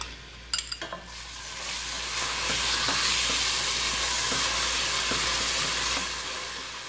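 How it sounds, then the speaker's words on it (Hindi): Onions fry in hot oil with whole garam masala in a pan for dhaba-style aloo keema, opening with a few stirring clatters before a steady, close sizzle fills the rest and fades slightly at the end. "प्याज को इसमें बहुत ज़्यादा कुक नहीं करना, सिर्फ बस 1 से 2 मिनट तक करना है।"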